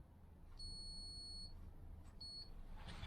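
A multimeter gives two steady continuity beeps, a longer one then a shorter one, while a rebuilt brake switch plunger is pushed, with a low background hum throughout.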